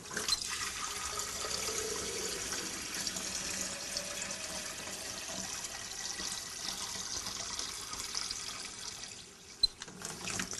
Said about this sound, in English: So let's see how long it takes to fill our beaker.